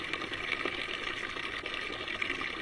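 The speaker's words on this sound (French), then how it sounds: "Ça, c'est l'eau du robinet." Steady rush of water running from a tap, a continuous close hiss with little change in level and no talking.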